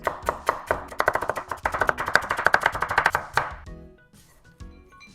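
Knife rapidly chopping a vegetable into strips on a cutting board, a fast run of sharp, close, evenly spaced taps that then stops, followed by a few quieter scattered knocks.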